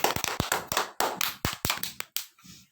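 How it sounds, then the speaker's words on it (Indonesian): Small group clapping for a pupil during a lesson on the pillars of faith, a burst of sharp, separate hand claps that thins out and stops, close and fairly loud with no talking. "Tepuk tangan pada Johan"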